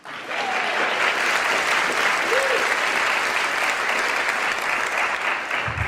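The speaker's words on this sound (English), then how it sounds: "can we applaud for them?" Sustained applause from an audience at a Columbia School of Journalism event, steady and loud, filling the room throughout with a brief voice at the start.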